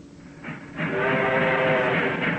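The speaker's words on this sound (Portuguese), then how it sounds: "Olha, olha, está chegando o trem, Pedro." A train arrives as a radio drama sound effect, its rumble swelling in and holding loud and steady, with a whistle-like tonal layer riding over the rolling clatter.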